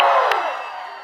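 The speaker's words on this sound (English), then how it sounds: "Can we please applaud Mana?" A rally crowd in Las Vegas cheers and applauds loudly and close, the roar fading steadily over about a second with no talk over it.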